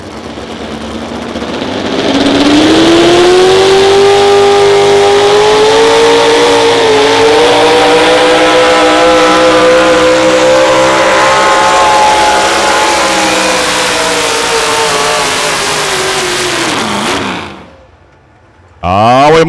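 A loud, heavily modified four-wheel-drive pulling truck engine, around 650 to 700 cubic inches, roars at high revs at a truck pull, pitch climbing and holding steady for a long pull before dropping off abruptly near the end.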